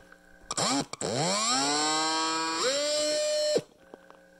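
An electric drill motor spins up with a rising whine, holds a steady high-pitched hum for a few seconds, then cuts off abruptly.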